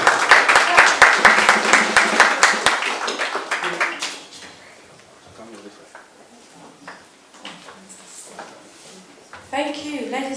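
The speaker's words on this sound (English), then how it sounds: "everyone give a round of applause for Caroline, the founder of" An audience at a launch event applauds the founder with a dense burst of clapping that fades after about four seconds, followed by scattered sounds and a voice speaking.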